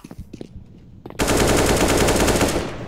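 AK rifle firing in the CS:GO video game on the Mirage map, a loud sustained automatic burst that starts abruptly after a second of quieter game sounds and keeps rattling rapidly to the end.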